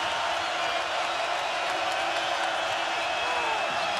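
Steady roar of a basketball crowd at a Colorado home game against Arizona, a dense continuous wash of cheering and voices filling the arena at moderate loudness with no breaks.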